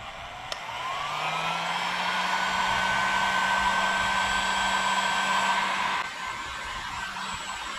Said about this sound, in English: take a little heat gun, we're going to really warm this thing up and bend this back into the correct shape